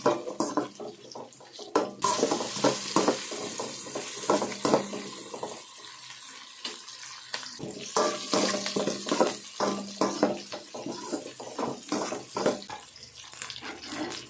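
Chopped onions sizzle and crackle in hot oil with fenugreek seeds for a sea fish curry, a steady frying hiss broken by close clatters of stirring, with no voices.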